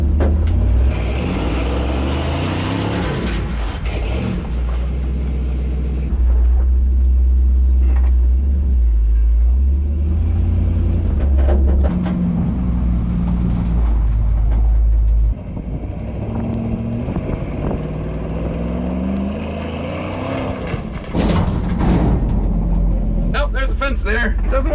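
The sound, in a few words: ramp truck engine revving, attempting donuts in the dirt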